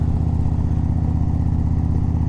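A motorcycle engine drones steadily with a throaty, pulsing exhaust note as it accelerates, close and loud throughout.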